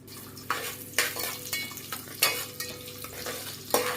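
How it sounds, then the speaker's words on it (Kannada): Chopped onions crackle and sizzle frying in oil in a pan, punctuated by repeated stirring scrapes and soft clinks at a steady rhythm, close and moderately loud. "ಸ್ವಲ್ಪ ಫ್ರೈ ಮಾಡ್ಕೊಳ್ಳಿ ಎಣ್ಣೆಯಲ್ಲಿ. ಈರುಳ್ಳಿ ಫ್ರೈ ಆಗಿದೆ."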